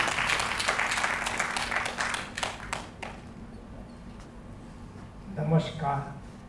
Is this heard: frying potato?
no